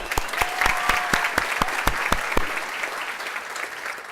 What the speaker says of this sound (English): can clap for that